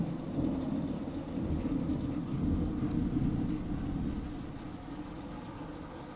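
Thunderstorm in Kentucky with steady heavy rain pouring down and deep rolling thunder rumbling underneath, continuous and fairly distant, with no voices.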